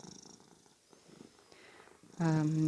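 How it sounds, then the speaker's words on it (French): A pet cat purrs softly and close by, a low, steady rumble in a quiet indoor space, before a louder, sustained tonal sound rises at the end. "Oui, mon chat. Tu ronronnes, toi."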